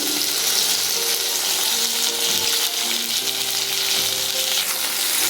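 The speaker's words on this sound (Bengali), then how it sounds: "টমেটোটাও আলু আর পেঁয়াজের সাথে ভেজে নেব।" Potatoes, onion and chopped tomato fry in a pan with a steady, close sizzle and occasional stirring scrapes for a fish curry, continuous with no talking.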